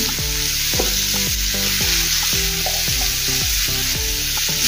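Finely chopped onion sizzles loudly in hot oil with cumin and ajwain, a steady close frying hiss broken by regular scraping knocks as it is stirred in the pan.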